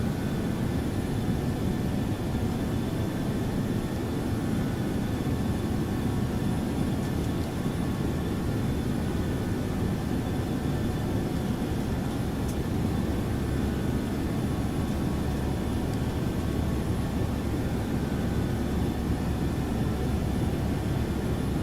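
Alaska Air Cargo Boeing 737 cruising in X-Plane 12, a steady low engine roar and airflow hum with faint cockpit tones, holding constant throughout.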